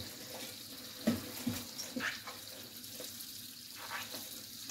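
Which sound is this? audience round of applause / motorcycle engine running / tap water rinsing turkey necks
tap water rinsing turkey necks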